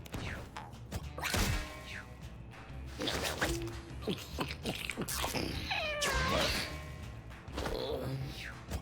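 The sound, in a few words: cat meowing in the video game Mewgenics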